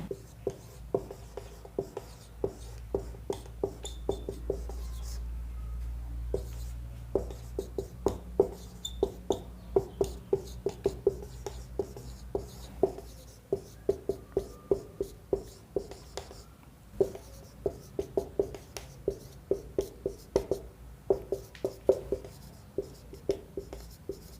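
Chalk or marker writing a question on a classroom board, sharp tapping strokes in quick irregular bursts, growing denser and louder toward the end, with no talk.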